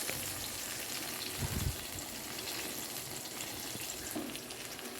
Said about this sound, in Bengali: আর একটু ভেজে নিয়ে তুলে নিতে হবে।